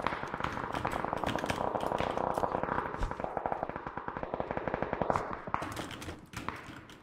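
Rapid automatic gunfire in a PUBG match, a dense continuous stream of sharp cracking shots that runs for several seconds before thinning out toward the end, with no voices over it.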